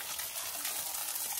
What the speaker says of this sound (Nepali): स्वच्छ पानी पनि आउँदै रहेछ यहाँ त